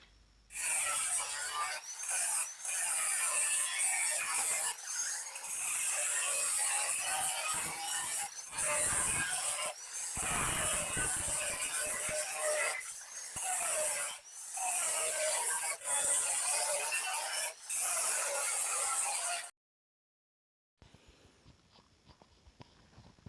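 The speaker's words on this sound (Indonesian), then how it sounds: "Kita gerinda setengah dalam atau menggerindanya digeret saja." An angle grinder with a cutting disc scores halfway into a steel plate, a loud, harsh continuous grinding broken by brief pauses as the tool is dragged along the line, then stopping near the end.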